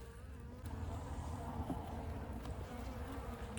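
Honeybees hum around an opened hive during an autumn inspection, a soft continuous buzzing drone close by with no talk over it.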